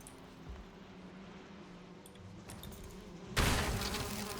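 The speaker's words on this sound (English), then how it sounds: "Bees." Insect buzzing of bees in a survival video game, a soft steady drone that swells suddenly loud and broadband partway through and stays close to the end.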